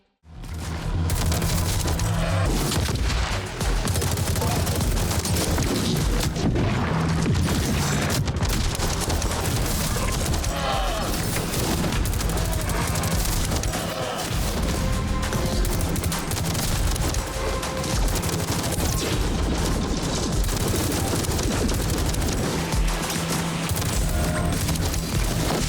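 Constant loud gunfire and booming explosions from the shooter game Metal Eden fill the scene, a dense unbroken barrage of shots and blasts with no pauses.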